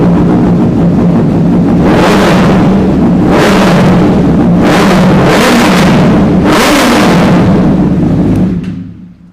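A used Honda Repsol Fireblade superbike at a dealer revs very loudly at close range, with four or five rising throttle blips over a constant rumbling idle before the engine noise drops away at the end.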